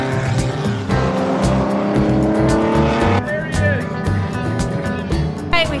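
A race car circles the track on its last lap, engine roaring loud and steady with gear changes and revs rising and falling, tires squealing near the end, while people talk over it.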